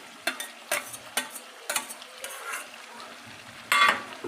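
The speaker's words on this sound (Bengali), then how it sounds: "এবার এই যে বেটে রাখা লঙ্কাটা দিয়ে দেবো" Chili paste goes into a pan to fry with ginger and cumin. A utensil scrapes and clinks in a steady stirring rhythm over a soft sizzle, close by and fairly quiet.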